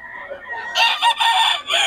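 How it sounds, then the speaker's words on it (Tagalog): A rooster for sale at a Bocaue market crows loudly up close, its rising call breaking into clucking bursts with brief pauses, heard alone without talk. "Ang manok ni Boss Ga."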